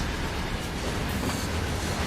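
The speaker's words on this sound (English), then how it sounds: "there is the auto train that should be passing us" An AI-driven train rolls past in Train Sim World 3, a steady broadband rumble with a faint rail clatter, continuous and moderately close, with no voices.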